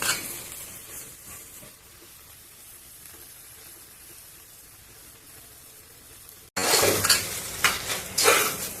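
Cut okra frying in a pan, quiet faint sizzle for most of the time, then a sudden louder burst of stirring with scraping and clinks near the end, close, no talking.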